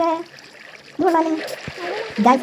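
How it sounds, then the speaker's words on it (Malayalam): Water flowing onto lava in the Minecraft video game gives a splashy, hissing wash that runs through most of the stretch, with a voice talking over it. "ഇതാണ് ലാവയിൽ വന്നിട്ട് വെള്ളം വീണ്"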